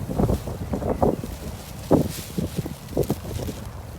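Strong wind buffets the microphone in uneven gusts, with rumbling low bursts and a broad rushing hiss throughout.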